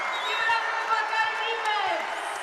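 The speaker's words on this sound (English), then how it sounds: "And you're hearing the crowd now clapping it up." A crowd at a Big Ten women's basketball game between Illinois and Ohio State claps and murmurs at close of the half, a dense, steady arena roar with scattered claps.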